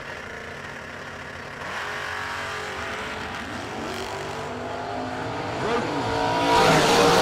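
S10 drag car and other drag racing cars launching at a bracket race, engines roaring loud and building toward the end, with faint announcer talk in the background.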